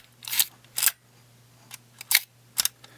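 Film advance lever on a Chinon Memotron camera being wound, giving several sharp ratcheting clicks in uneven bursts, close and clear over a faint steady hum.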